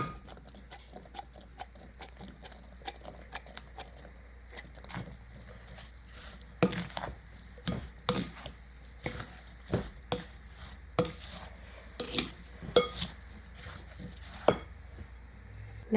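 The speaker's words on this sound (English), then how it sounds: "I'm going to go ahead and put our apples in." Chopped apples are dropped and mixed into apple pie cake batter in a bowl, giving a quiet series of irregular clicks, taps and soft thuds with occasional louder knocks, separated by short pauses.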